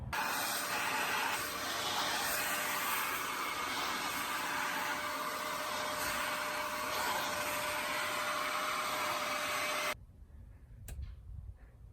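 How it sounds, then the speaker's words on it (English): Spot Bot carpet cleaner shampooing the carpet inside a Suburban, a steady loud whirring and hissing motor drone with a constant tone that runs for about ten seconds, then cuts off, leaving faint room noise and a couple of small knocks. "I'm gonna go through and do a little spot bot cleaning action"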